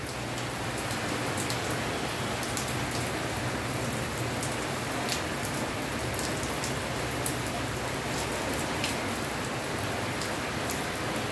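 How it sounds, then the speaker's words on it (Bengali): Heavy autumn rain pours down in Chakbazar, Dhaka, a dense, unbroken roar of drops hitting surfaces that stays loud and even throughout, with no voices. "ঝুম বৃষ্টি নামছে।"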